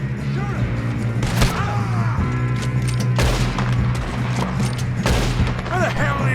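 A Red Dead Redemption 2 firefight in which sharp, close gunshots crack out in clustered bursts with echoing tails, set over a steady low drone with background voices.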